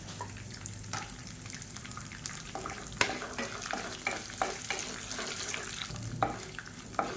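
Chana dal frying in oil in a pan with Kashmiri chilies and garlic cloves, a quiet continuous sizzle with occasional stirring scrapes and clinks close by.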